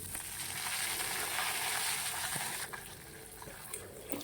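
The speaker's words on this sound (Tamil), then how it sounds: "அதையும் நல்லா ஃப்ரை பண்ணுங்க." A handful of curry leaves crackle and sizzle in hot oil in a pan for pulliyodarai, a steady loud hiss with small pops that eases slightly partway through.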